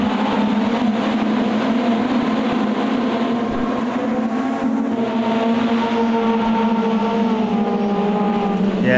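Roaring race car engines in the racing game Automobilista 2 drone continuously and loud, with rising and falling revs as they accelerate and shift, no pause throughout.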